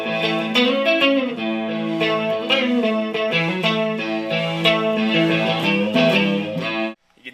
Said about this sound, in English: This is a chorus pedal with the BBD chip in there